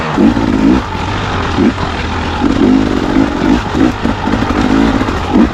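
A motorcycle ridden hard at night revs and accelerates in repeated surges, with wind and road rumble between pulls, loud and close to the rider.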